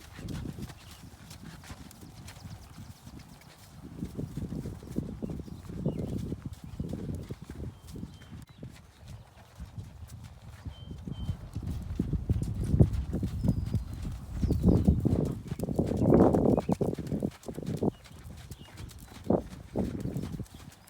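Horse hooves clip-clop at a walk in a steady, fairly close rhythm that grows louder midway, with an occasional snort or whinny-like sound and no talking.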